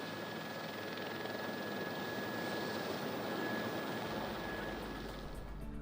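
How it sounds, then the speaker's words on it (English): A JetBlue airliner making a low pass while coming in to land at LAX gives a steady, broad engine roar. It holds at a fairly even loudness throughout, with no talk over it. "This could be a significant problem for this JetBlue aircraft that is coming in for a landing."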